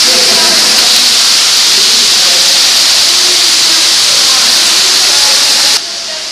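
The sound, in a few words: waterfall inside Marvel Cave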